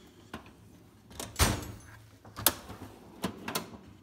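A drawer on a metal tool box is pulled open, with several sliding rattles and clunks spread across a few seconds, fairly close in a quiet room.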